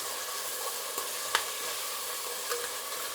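Onions and tomatoes fry in a pan with a soft, even sizzle, broken by a few light taps and clinks of stirring.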